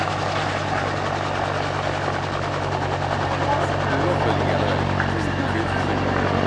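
A Westland Whirlwind helicopter at the Yeovilton airshow gives off a continuous thudding rotor and engine roar, steady and fairly close, with a low droning hum throughout.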